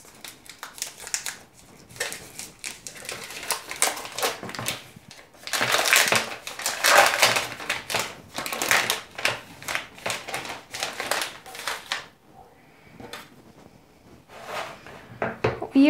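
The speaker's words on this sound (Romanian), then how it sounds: "Eu o tai pur și simplu. În bucăți mai mari, pentru că îmi place să simt bucățile de ciocolată în banana bread." Knife cutting chocolate into large chunks for banana bread, a run of close, crisp chopping taps and crunches in uneven bursts with short pauses between.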